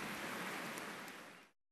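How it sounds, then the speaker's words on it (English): Rain falls in a Peppa Pig cartoon scene, a brief soft hiss of steady downpour that fades out after about a second and a half, heard alone. "It is raining today, so Peppa and George cannot play outside."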